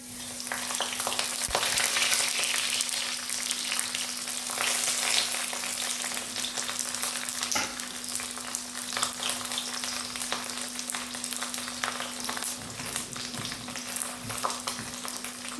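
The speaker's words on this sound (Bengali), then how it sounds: "ঢাকা দিয়ে ফ্রাই করব।" Fish fries in a hot pan in a village kitchen, a dense, continuous sizzle and crackle with a steady low hum, close and loud, with no talking.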